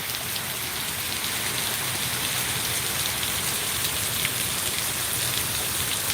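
Heavy rain pours down steadily over Bassi Pathana's flooded market, a dense, unbroken hiss of downpour that stays loud and even throughout with no voices.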